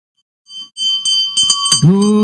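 A hand bell rings during an incense offering at a Hindu devotional ceremony, a bright metallic ringing that builds from soft, scattered strikes into continuous, loud jingling, with a low voice joining toward the end.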